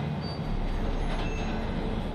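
Train in the Spider-Man Remastered video game, a steady low rumbling roar of rail cars with faint metallic squeal, constant and fairly loud, no talking.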